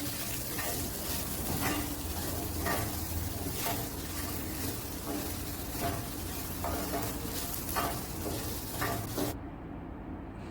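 Beans curry with masala sizzles loudly in a pan while a spoon scrapes and stirs it in repeated strokes. The frying is close and continuous throughout.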